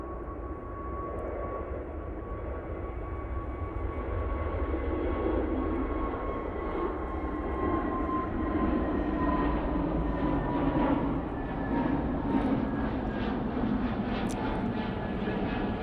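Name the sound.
EasyJet airliner departing for Munich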